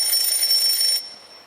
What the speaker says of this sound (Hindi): फजर का अलार्म बज रहा है।